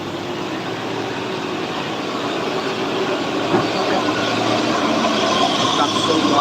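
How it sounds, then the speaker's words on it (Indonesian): A cement-carrying capsule tanker truck rolls along the Sitinjau Lauik mountain road, a continuous heavy engine rumble and road hiss swelling a little as it passes. "Ada truk kapsul ya bosku."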